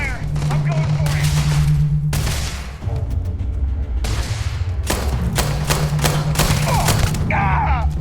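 Video game gunfire from Starfield, dense rapid bursts and thumping shots filling the whole stretch with a steady low drone beneath, loud and close, with a voice shouting over the shooting.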